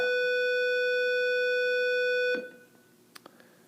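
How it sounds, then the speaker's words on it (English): A loud, steady electronic alarm tone with bright harmonics holds for over two seconds and then cuts off abruptly, leaving faint room noise and a few small clicks. "There's that darn alarm."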